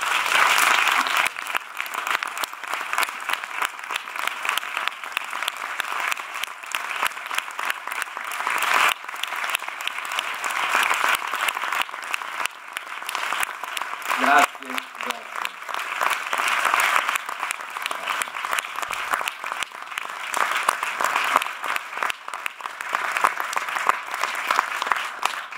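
An audience at a film event applauds Bernardo Bertolucci, sustained dense clapping from a large crowd that carries on steadily for the whole stretch with no pauses.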